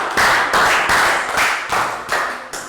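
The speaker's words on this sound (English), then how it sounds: "Round of applause for a laptop." A classroom of young pupils gives a round of applause, dense continuous clapping with rhythmic surges, loud and close, no voices over it.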